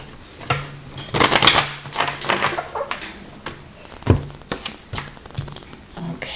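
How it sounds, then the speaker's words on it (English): Tarot cards, including French and angel decks, are handled and shuffled close up, giving irregular papery flicks, riffles and taps with a few sharper snaps, and no talking over them. "Now pull one of my French cards."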